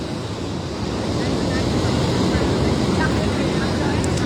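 Ocean surf rolls steadily onto the beach during a sea turtle hatchling release, a continuous loud wash of waves mixed with wind buffeting the microphone, no distinct breaks between swells.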